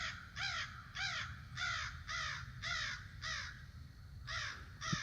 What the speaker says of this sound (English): The crows are so loud this morning.